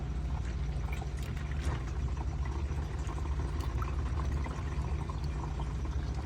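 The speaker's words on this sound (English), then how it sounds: "See all the oil coming out?" Engine oil from a diesel truck drains out of the opened drain plug in a steady, continuous pour, a wet rushing stream held at an even level with no talk over it.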